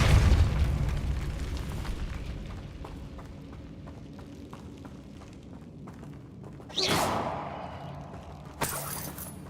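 An Incendio fire spell in Hogwarts Legacy erupts with a heavy booming burst at the start that fades into a crackling rumble, followed by two sharper whooshing blasts near the end.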